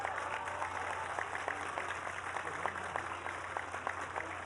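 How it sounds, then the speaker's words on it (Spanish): Applause for health workers at a Salud Casa por Casa public health event in Ixtapaluca, State of Mexico: steady, dense clapping from a crowd running throughout at moderate level, with a constant low electrical hum underneath. "Vamos a darles un aplauso."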